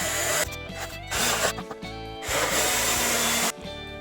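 A power drill bores partway into wood to seat the head of a carriage bolt, a loud steady grinding whir in a few bursts with short gaps between, close and alone.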